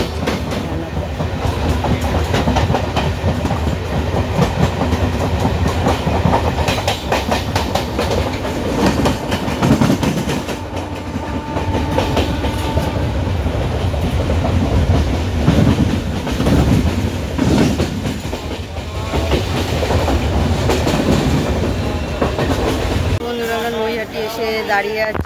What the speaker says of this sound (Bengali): তারপর নৈহাটি থেকে ট্রেন ধরে ব্যান্ডেলে গেছি